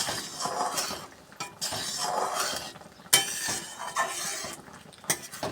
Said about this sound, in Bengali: এই যে কুলগুট হচ্ছে টকবক করে ফুটছে